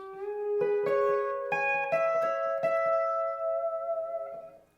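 Pedal steel guitar phrase with rising and bending notes picked in quick succession, sustaining and blending together before trailing off softly.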